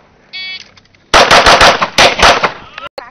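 Rapid string of loud gunshots at a practical shooting match, fired close by in a fast burst of about a dozen cracks after a brief electronic start beep.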